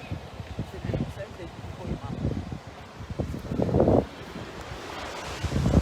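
Waves break at Surf Beach in Kiama with an irregular wash of surf, gusty wind buffeting the microphone and scattered thumps and rustles, one surge swelling louder near the middle.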